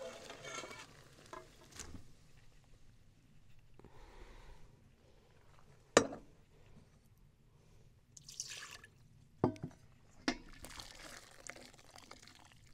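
Hot syrup and candied orange peels are poured through a kitchen strainer, making quiet trickling and dripping with a few sharp clinks of utensils, close and faint throughout.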